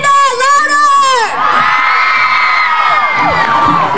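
A crowd at an outdoor event at the Las Vegas Springs Preserve screams and cheers loudly, with high children's shouts and whoops rising together in a sustained, dense roar.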